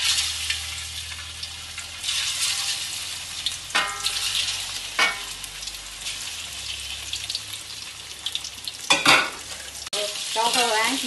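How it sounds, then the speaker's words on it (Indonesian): Chicken frying in hot oil, a steady sizzle with occasional sharp pops and stirring scrapes. "Okey, kita sekarang goreng ayam ni."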